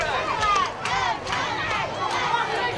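A group of middle school students cheers and shouts together at a small-town parade in Camp Verde, loud and close. The high excited voices rise in repeated bursts over a constant crowd murmur.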